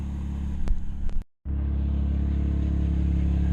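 Grain auger with new belts running at a farm during corn harvest setup, a steady loud mechanical rumble and hum, briefly cut off by a short silent gap before resuming evenly.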